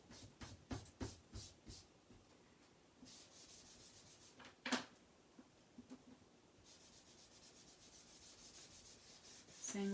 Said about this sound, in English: I'm just going to brush in, rub in some brown ink in those spots so it doesn't look quite so white.